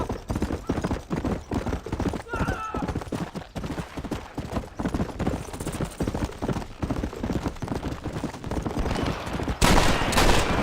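In the Red Dead Redemption video game a horse gallops hard with rapid, rhythmic hoofbeats throughout, mixed with bursts of gunfire and occasional shouting voices.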